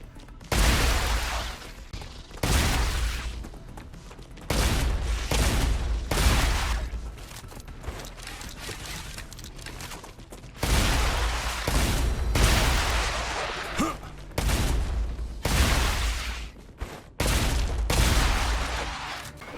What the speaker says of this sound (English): I will say this shotgun is great